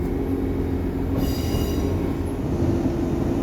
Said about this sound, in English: And there's a 331 heading off to Blackpool now.